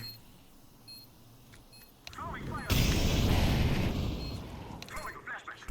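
Gunfire in Counter-Strike 2, a loud burst of shots and a heavy blast dominating the middle of the clip, trailing off with scattered sharp game sounds and beeps.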